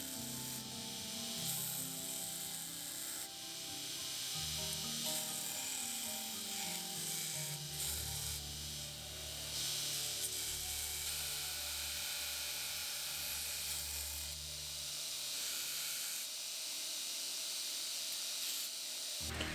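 A steel steak knife blade being ground in a home knife-making project, giving a steady, continuous abrasive rasping and whirring that runs close and loud with a droning hum beneath.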